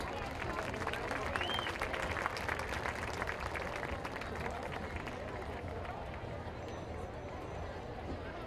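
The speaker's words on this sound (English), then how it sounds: "Please give a round of applause to O Club honorees Jack Moore," A football game crowd in the stadium stands applauding honorees, a dense continuous wash of clapping and murmuring that holds steady for several seconds, fairly distant, with a voice on the loudspeaker heard faintly underneath.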